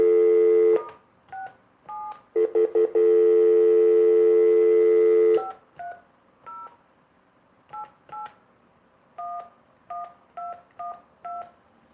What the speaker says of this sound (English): So let me dial into the number.